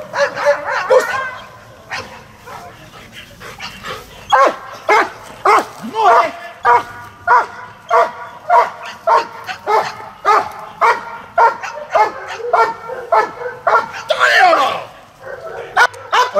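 Police dog barking and yelping repeatedly during bite work training at a working-dog competition, a fast run of loud, close barks with short gaps, while people talk and someone shouts nearby.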